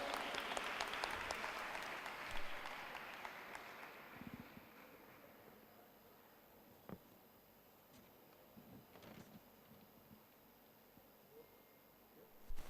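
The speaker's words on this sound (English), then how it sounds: "give a big round of applause" An audience applauds, loudest at first and fading into scattered claps and a faint room hush.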